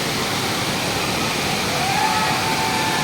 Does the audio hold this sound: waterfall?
yes